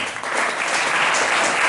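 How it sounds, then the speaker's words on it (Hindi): A school audience at a government boys' higher secondary school admission festival in Nagda applauds the teachers, with dense, sustained clapping filling the whole moment at steady volume. "इसलिए शिक्षकों के लिए भी एक बार जोरदार ताली बजाएं।"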